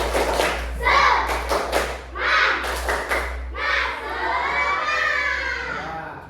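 In a classroom, schoolchildren perform a rhythmic clapping cheer, their sharp, group-timed bursts of claps alternating with loud shouted chanting from the whole class. The sound is close and lively.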